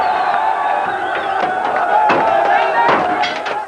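Kurdish crowd in Kirkuk pulling down statues of Saddam by hand, a loud, dense roar of voices and cheering with sharp bangs and thuds breaking through the din throughout.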